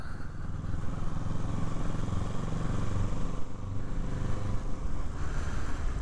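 A motorcycle runs steadily through a residential street, its engine a continuous low rumble with faint clatter, fairly close and unbroken.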